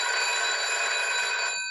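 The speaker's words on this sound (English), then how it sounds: "And again, the phone rings." A telephone rings with a steady electronic warble, one continuous burst that stops abruptly. It is fairly close but not loud, with no voices.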